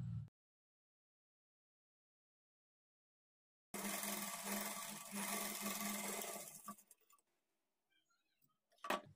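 A sewing machine stitches a blouse in one continuous run of about three seconds after a long silence, then slows and stops, followed by a brief click.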